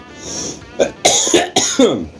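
Several harsh coughs in quick succession, close and loud, after a short breathy sound.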